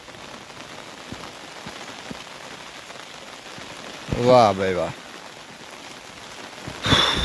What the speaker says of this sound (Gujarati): અત્યારે તો સાંટા ચાલુ થઈ ગયા